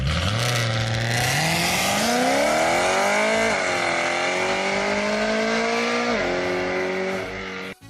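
A revving engine with a V8-like character, rising in pitch through repeated upshift-style climbs with strong harmonic growl, loud and close, then cutting off abruptly at the end.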